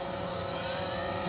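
A foam board FT Sea Otter RC seaplane's motor spins up on the water, a steady, fairly loud electric whine with a constant high tone over broadband wash, no talk.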